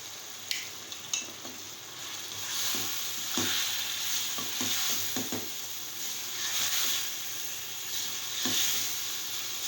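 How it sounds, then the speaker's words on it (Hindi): Chicken gizzards fry in a masala over medium-low heat, a steady close sizzle and hiss with intermittent stirring clinks and scrapes, moderately quiet. "इसको मैं इस मसाले में भून लूँगी।"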